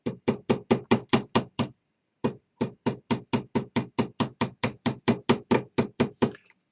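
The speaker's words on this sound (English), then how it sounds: "Tap my nail on through." A nail is tapped through the compression pin of a suction cup on a TOYO circle cutter, giving crisp, close hammer taps in two quick even runs separated by a short pause, about two dozen strikes in all.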